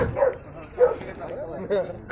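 A dog barks in three short, separate bursts, each followed by brief quiet, heard close by amid background murmur.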